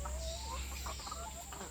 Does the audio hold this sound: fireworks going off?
no